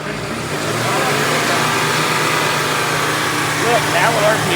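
A car engine runs under the open-then-closed hood of a rusty project car, a steady rumble that swells slightly as the revs climb, with a voice speaking briefly near the end.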